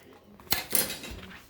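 A cooking pot handled on a home stove before making risotto, giving two sharp metallic clanks close by, then a quieter rattle and scrape that fades out.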